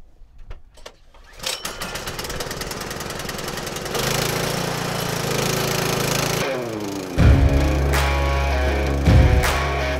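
A Craftsman 26-inch snowblower engine sputters, then starts and settles into a loud steady drone, growing louder as the load and revs rise toward the end.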